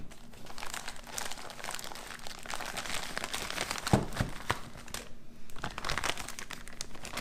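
A thick plastic pouch from a Latvian military ration is cut open with a knife, giving close, continuous crinkling and crunching with a few sharper snaps.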